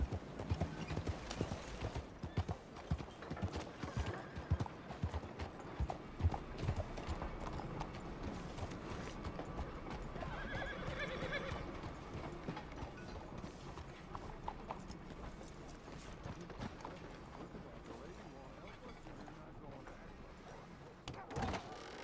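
Horse hooves clip-clop steadily along at a walking pace in Red Dead Redemption 2, with faint creaks and occasional voices in the background.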